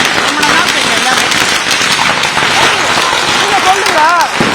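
Firecrackers crackle and pop in dense, overlapping bursts during a nighttime Diwali celebration in Chennai, loud and continuous, with people talking underneath.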